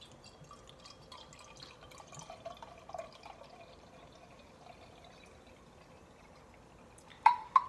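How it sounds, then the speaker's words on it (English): Session mead, a honey, mint and lime Meadjito, is poured into glasses: a faint, quiet trickle runs for several seconds, and a couple of sharp glassy clinks follow near the end. "Let's get them poured."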